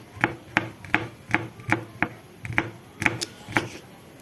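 A knife taps rapidly and steadily on a cutting board, about a dozen crisp, evenly spaced chops as peeled garlic is finely minced for sarson ka saag.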